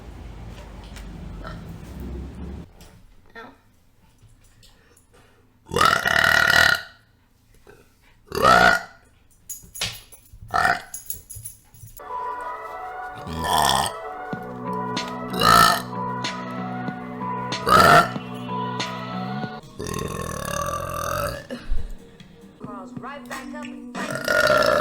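Deep, low burps from a streamer, several loud belches scattered between stretches of quieter talking and background game sounds.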